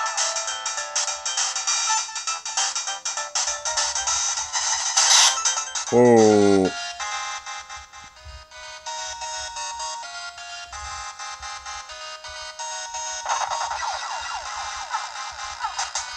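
Sega Mega Drive game music played through an emulator on an Android handheld, sounding wrong: bright, harsh chiptune tones run continuously with a swooping glide partway through, and a voice gives a brief exclamation.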